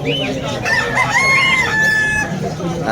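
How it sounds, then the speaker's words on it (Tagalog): A rooster crows amid clucking chickens at an outdoor pet market, the calls rising and falling over a steady outdoor background with no talking. "Yung mga manok dyan sa gilid oh, yan."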